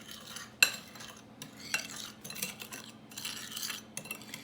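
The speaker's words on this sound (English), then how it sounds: "I'm going to stir that together now" Cinnamon and sugar being stirred together in a bowl with a utensil, giving light scraping and clinking strokes with a sharp tap near the start, close and fairly quiet, with no talking.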